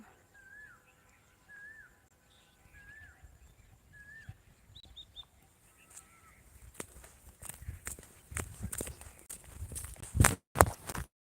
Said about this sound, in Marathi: कोकिळेचा आवाज तर ऐकण्यातच मज्जा आहे